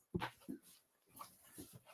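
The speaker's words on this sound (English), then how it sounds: "Dogs are out of control." Several dogs left alone at home make short yelping, whimpering sounds, a few separate bursts of moderate loudness with quieter gaps between them.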